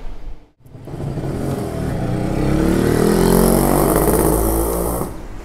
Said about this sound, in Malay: Lepas tu kita dah boleh try start motor ni